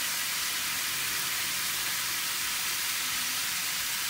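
Onion frying in oil until brown for a Bengali chicken and potato curry makes a steady, dense sizzling hiss that runs unbroken and fairly close, with no talk.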